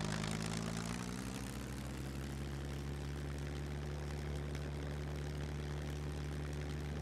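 Propeller airplane engine in the video game SCUM, a steady loud droning hum with a low throbbing tone that shifts slightly in pitch at the start, then holds constant with no voices.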